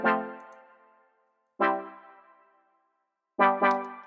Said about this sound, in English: So I have like these chord steps down here just to add some bounce.